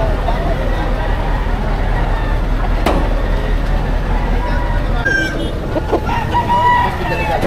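Roosters crow and cluck at a fighting cock market in Padre Garcia, Batangas, a drawn-out crow rising above constant crowd and traffic noise, with people talking nearby.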